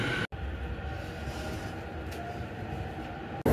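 A Sobu Line local train pulls into Kinshicho station in Tokyo with a steady, rumbling rail roar that holds at an even level, broken by brief sharp clicks near the start and end.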